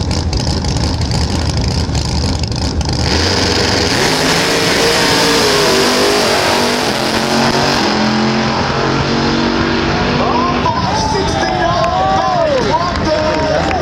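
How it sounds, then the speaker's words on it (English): A nitrous-fed drag racing car blasts down the strip at a drag meet in Willowbank, Queensland: a loud, sustained engine roar fills the whole run while an announcer talks over it. "That's the quickest ever nitrous run in this country."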